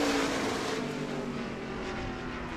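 A modified race car runs past on an oval track during qualifying at New Smyrna, its engine a loud, continuous roar that fades only slightly over a couple of seconds.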